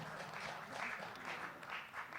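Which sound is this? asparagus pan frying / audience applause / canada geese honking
audience applause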